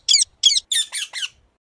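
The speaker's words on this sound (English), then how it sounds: "Parrot." A parrot in a kids' animal-name game gives five harsh, raspy squawks in quick succession, loud and close, with no talking.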